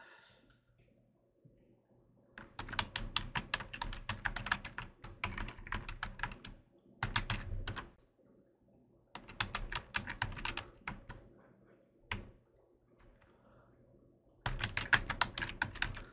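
Quiet typing on a computer keyboard in several bursts of rapid clicking keystrokes, separated by pauses of near silence, heard close up with no talking.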